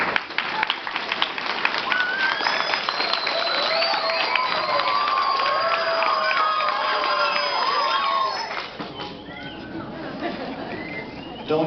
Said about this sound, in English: You guys, clap for them.